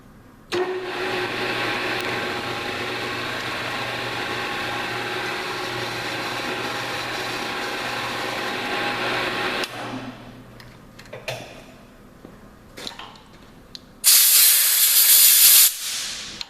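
Lathe chamfering the shoulder of a steel screw jack top screw: a steady broadband cutting hiss over a low motor hum for about nine seconds, then the spindle winds down with clicks and a brief loud blast of air near the end.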